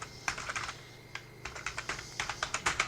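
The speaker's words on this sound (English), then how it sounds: "we're gonna type up in here Office Deployment Tool" Computer keys tap out a search on a desktop keyboard in quick irregular bursts of sharp, light clicks, close by and fairly quiet, with short pauses between runs and no voices.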